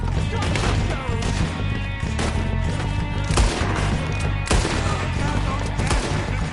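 Shotgun blasts and other gunfire in a Red Dead Redemption 2 cabin shootout, dense and continuous with repeated sharp bangs over a steady game soundtrack, and shouted voices mixed in.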